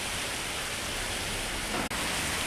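Steady rain pours down in a dense, even hiss, constant and moderately loud with no voices, broken only by one brief dropout near the end.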